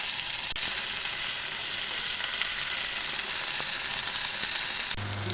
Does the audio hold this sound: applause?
no